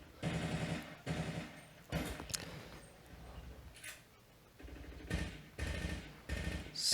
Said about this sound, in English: So many fucking gunshot sounds